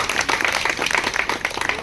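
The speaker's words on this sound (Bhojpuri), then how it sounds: "फिर एक बार प्रमोद जी के लिए तालियां बजा के।" Steady applause from a crowd, many hands clapping densely and continuously at a loud, close level with no voices on top.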